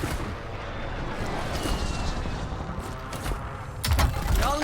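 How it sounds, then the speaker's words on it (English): A steady roar of incoming gunfire fills a video game battlefield, with a louder cluster of sharp shots and blasts bursting near the end. "Incoming fire."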